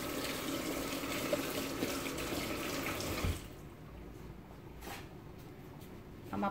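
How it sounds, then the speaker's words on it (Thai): A kitchen tap runs strongly while chili paste is being washed off, a loud steady rush that cuts off partway through, followed by quieter drips, splashes and light handling sounds. "ล้างให้สะอาด"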